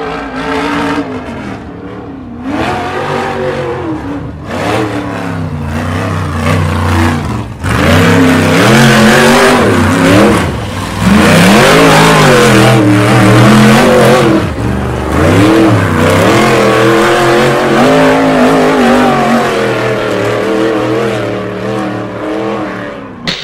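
Off-road race car on a King of the Hammers qualifying run, its engine revving hard and loud throughout, with rising and falling pitch sweeps as it accelerates and backs off, louder from around the middle onward.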